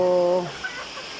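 Egyptian Fayoumi hens nearing laying age give a brief, close cluck with a short tonal call, fading into low background noise.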